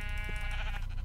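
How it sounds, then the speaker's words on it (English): Sheep in the video game Minecraft giving one short, wavering bleat over a steady low background rumble. "there is another sheep"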